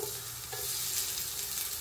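Garlic sizzles and fries in a pan for chicken and pork adobo, a dense, continuous crackling hiss up close with occasional stirring scrapes.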